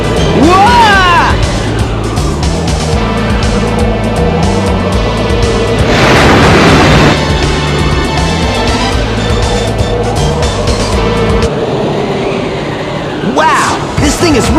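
A plane crash-lands onto the huge Egg Carrier airship in the video game Sonic Adventure on Dreamcast, heard as a loud, continuous engine roar with a rushing crash burst near the middle, all beneath a constant game music score.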